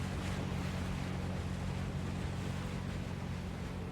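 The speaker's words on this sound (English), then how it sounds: "Eco-terrorists using engines polluting the water." Motorboat engines run on open water in the military shooter Arma 3, making a steady droning rumble mixed with wash and wind. The sound is continuous and fairly faint, and no one speaks.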